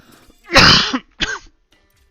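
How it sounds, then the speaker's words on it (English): A man coughs or clears his throat in two close, harsh bursts, the first longer and louder, followed by quiet. "Forget the cough, I've just recovered from COVID."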